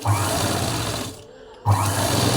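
A sewing machine runs loud and close while stitching piping around a blouse neck, whirring steadily, stopping for about half a second, then starting again with a fresh burst.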